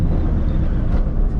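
A Toyota Supra MKIV running about 24 pounds of boost pulls hard in first gear, a loud, dense engine roar heard from inside the car with wind buffeting, steady through a short burst.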